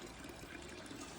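Water from a gravity-fed creek hose runs in a faint, steady rushing flow, heard alone.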